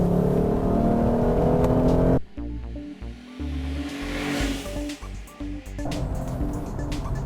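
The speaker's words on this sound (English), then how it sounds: "Lexus seems to have pumped in a little extra engine noise when you get on the gas" A 2015 Lexus RC 350 F Sport coupe engine revving as the driver presses the gas, heard from inside the cabin as a steady, loud engine drone that shifts in tone partway through and keeps pulling.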